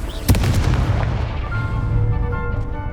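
A fiery Confringo spell explosion in the Hogwarts Legacy video game, a sharp loud blast followed by a rumbling, ringing decay with shimmering magical tones, no voices.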